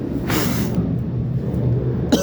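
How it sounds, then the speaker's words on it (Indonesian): A few harsh coughs close to the microphone, one long burst followed by shorter throaty coughs and a final sharp one near the end. "Batuk terus ya guys"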